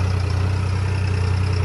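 A New Holland tractor hitched to a 21-foot trolley idles steadily after starting, a close, even low diesel rumble with faint clatter and no talk.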